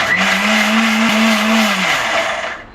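A kitchen mixer grinding batter for tandla bhakri, a loud close motor whine holding a steady pitch for about two seconds, then winding down and fading, no talking.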